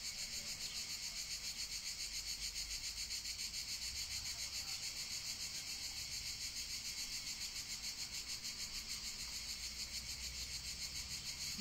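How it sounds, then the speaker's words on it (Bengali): Crickets chirp in a dense, continuous high pulsing trill that stays steady and fairly loud for the whole stretch, with a low background hum beneath. "ঝিঝি পোকার ডাকটা বেশি লাগতেছে আজকে"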